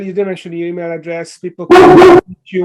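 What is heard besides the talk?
dog barking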